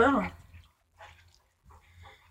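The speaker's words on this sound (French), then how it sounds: "Vraiment désolé pour les chiens là." A dog barks sharply at the start, near and loud, while riding gaiters are washed with soap indoors; quieter scuffling and faint sounds follow.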